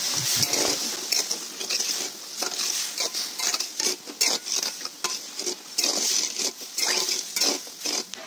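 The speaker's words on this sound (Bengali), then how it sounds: "এটাকে ঘন ঘন নাড়তে হবে, না হলে কিন্তু তলায় লেগে যাবে।" Thick sugar syrup for jalebi is stirred in a pot, with busy, uneven scraping and clinking of a spoon against metal over a soft bubbling hiss, close and continuous.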